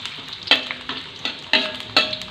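Jengkol beans fry in hot oil, a continuous sizzle broken by about four sharp scraping stirs at roughly half-second intervals, close and fairly loud with no talking.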